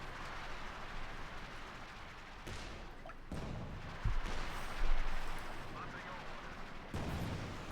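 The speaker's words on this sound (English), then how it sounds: "it's now the Maxim's turn there to getting blasted with the German artillery" German artillery pounds away in the video game Company of Heroes 2, with distant rumbling booms and a few sharper impacts rolling under constant battle noise while a voice talks over it.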